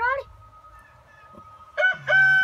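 A chicken, likely a rooster, gives short clucking and crowing-like calls, close and fairly clear, with a quiet gap between bursts.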